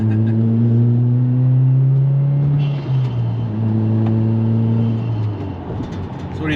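Subaru WRX with an MBRP Race Profile exhaust pulls hard, its loud engine note rising steadily, dipping at a gear change, then climbing again, with no talk over it.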